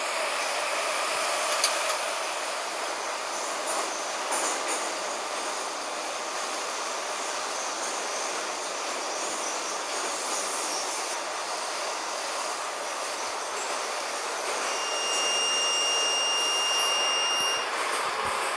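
An 81-717 metro train in Minsk gathers speed toward about 70 km/h, giving a steady, loud roar of rolling wheels and rushing air with no talk. Rising motor whine tones come through near the end.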